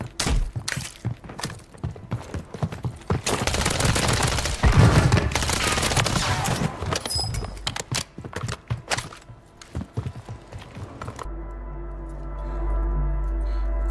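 Gunfire in the video game Warzone, with dense bursts of rapid shots and sharp impacts crowding the first ten seconds, then dropping to a quieter low rumble at the end; no talking.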